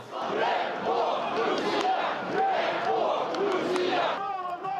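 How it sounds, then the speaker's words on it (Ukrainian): A large crowd at a march chants slogans against the president and officials, with loud, rhythmic massed voices rising and falling continuously throughout. "Дехто скандує гасла проти президента та урядовців."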